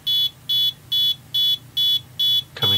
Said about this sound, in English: as I move further from zero, see the beeping changes, and then as I get closer it gets higher